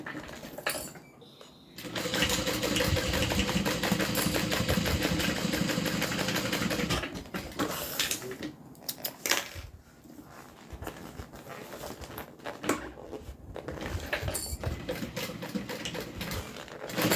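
A sewing machine stitches down the sides of a pocket in a steady, fast mechanical whir for several seconds, then stops and restarts in shorter, quieter bursts with handling noises between.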